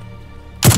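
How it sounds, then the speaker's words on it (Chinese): A gunshot in a live-action PUBG skit: a single sharp, loud crack bursts in near the end after a quiet stretch, with no talking over it. "有人开枪，你没听到吗？"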